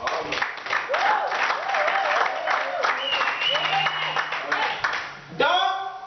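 Young people in a church congregation cheer and applaud, with a dense wash of clapping and scattered voices and whoops filling the space, steady throughout, then a brief lull before a fresh swell of shouts near the end.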